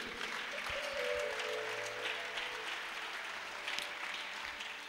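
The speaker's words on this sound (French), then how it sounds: "Merci Père, acclamons Jésus." A church congregation applauds together in a sustained wash of clapping that stays fairly even for about five seconds, with a faint low hum underneath and no speech over it.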